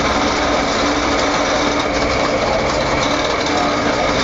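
A sugar cane juice machine runs on a street in Zanzibar, giving a loud, steady mechanical whir and hum without a break throughout.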